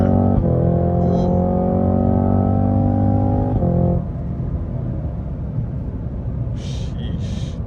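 A Cadillac CT5-V Blackwing engine roars loudly as the car pulls hard, its tone climbing before an automatic gear shift cuts it, then settling into a lower rumble with a brief exclamation from inside the cabin.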